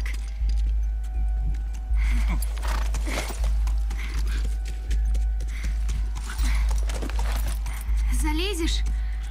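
Horse hooves clip-clop in The Last of Us, a loud, regular trotting rhythm over a low steady rumble, with someone talking over it and a brief whinny near the end.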